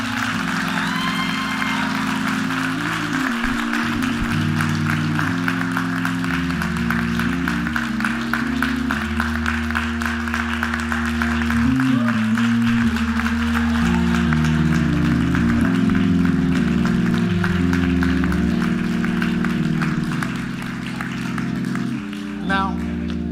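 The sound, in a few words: congregation applauding youth coming forward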